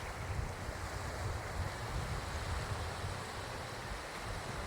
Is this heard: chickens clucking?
no